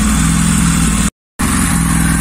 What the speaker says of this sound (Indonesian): Engine-nya ternyata berjalan normal ya, cuman agak-agak pincang dikit